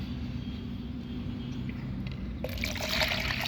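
Cucumber seeds being rinsed with water in a mug at home, a low, steady trickling and sloshing of water that turns brighter and splashier for the last second, with no talking.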